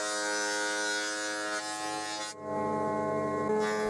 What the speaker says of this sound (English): I jointed one face of both pieces until they were perfectly flat and then thickness planed them to about